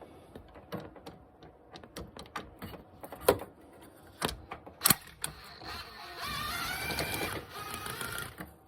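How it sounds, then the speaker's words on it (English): A hand tool works loose the factory-threadlocked front engine mount bolts on a Suzuki SX4, with scattered sharp metallic clicks and knocks and then a longer stretch of rapid ratcheting, close up, no talking. "Take your time working these bolts loose."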